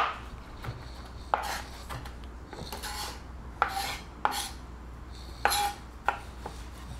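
Butter, finely chopped garlic and parmesan cheese being mixed by hand in a kitchen, giving a few sharp scraping and knocking hits spaced across the moment over a low steady background hum.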